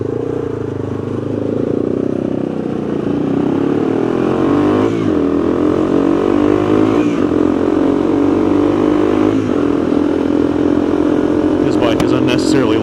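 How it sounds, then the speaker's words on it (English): A loud motorcycle riding in traffic, its engine droning steadily and close for the whole stretch with slight revving swells and clatter, wind noise around it. "This bike is unnecessarily loud."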